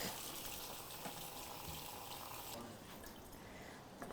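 Tap water running steadily over fresh strawberries in a kitchen sink, a continuous close hiss and splash with slight changes as the fruit is moved under the stream.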